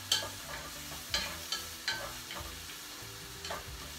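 Tuna pasta stirred in a pan: a faint, steady sizzle under repeated light scraping clicks of a utensil against the pan, spaced irregularly, with no voices.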